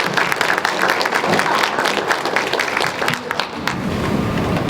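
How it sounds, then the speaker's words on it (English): Audience applause after a presentation at a college biology current events symposium, a steady wash of many hands clapping that sustains throughout with a slight dip near the end. "We'll give you a round of applause."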